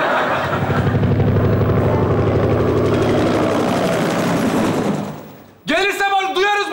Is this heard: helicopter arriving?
yes